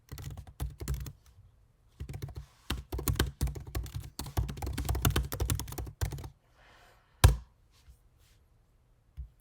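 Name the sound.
typing on a computer keyboard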